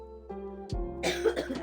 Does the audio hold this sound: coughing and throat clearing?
yes